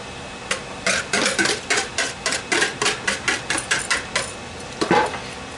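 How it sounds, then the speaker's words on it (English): Quiche filling whisked in a bowl, heard as a quick run of about twenty rhythmic, close utensil clacks and scrapes against the bowl, steady and without talk. "You just want to make sure that this is all mixed in nice."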